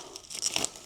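Plastic packaging around a Trim X trim kit for a Sea-Doo Spark crinkles and tears in a quick, close burst of crackling, alone with no talking.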